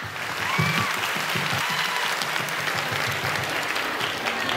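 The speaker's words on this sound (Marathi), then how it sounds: "सर्वांनी जोरात टाळ्या वाजवा" A village audience at a Home Minister game show event in Bebdohol, Maval claps loudly and continuously, a dense steady wall of applause with no talk over it.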